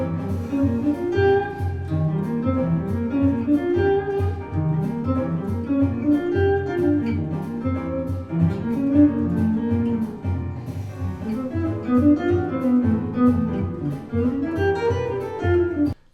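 Guitar arpeggios over rhythm changes, played an octave higher as a continuous flowing line of single notes rising and falling over about sixteen seconds, with no talking.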